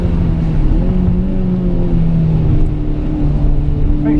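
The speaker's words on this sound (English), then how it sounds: "Make sure I'm rev matching as much as I can." A car engine revs up and down with rev-matched downshifts on a wet Blyton Park race track during a rainy track day, with a loud close engine note whose pitch steps up and down across the gear changes.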